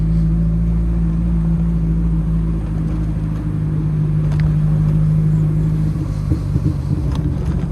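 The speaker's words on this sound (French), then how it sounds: "Belle sonorité à l'échappement" A 2015 Morgan Plus 4 sports car driving on country roads, its exhaust giving a steady, loud low rumble that shifts in tone near the end.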